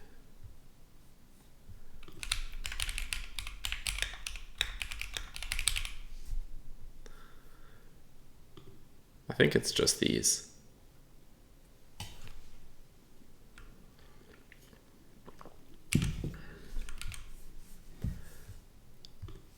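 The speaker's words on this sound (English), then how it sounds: "This is the keyboard. It's Gateron G Pro Brown switches." A keyboard fitted with Gateron G Pro Brown switches clatters in irregular bursts of soft tactile keystrokes, with louder clusters and pauses between them, while a person briefly speaks.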